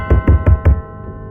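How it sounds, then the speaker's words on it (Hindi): Loud knocking on a door as a horror-story sound effect: four heavy, evenly spaced thuds in quick succession, close and alone, then a short fading tail. "अब डोरबेल के साथ साथ जोर जोर से किसी के दरवाजे को खटखटाने की आवाज़ भी आकांक्षा के कानों में गूंज रही थी"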